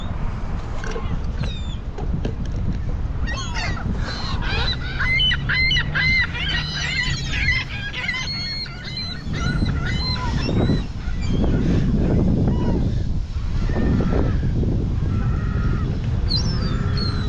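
Gulls in a Zehrs supermarket parking lot cry and squawk repeatedly and loudly at close range, with overlapping honking calls and some background movement throughout.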